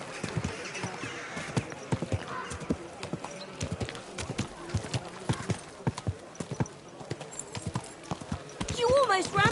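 Horse hooves clip-clopping in a quick, uneven rhythm of sharp hits, fairly close, with a brief whinny-like sound and a voice talking softly to the horse.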